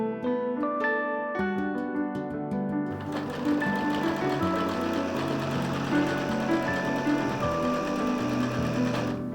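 A sewing machine stitches a dart while taking in the waist of a garment, running steadily and loudly for several seconds after a few opening notes.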